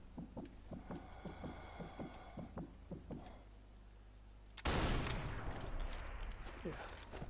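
Sniper rifle fire in Sniper Elite 4, a run of sharp, evenly spaced reports, then a sudden loud roaring blast that stays noisy to the end.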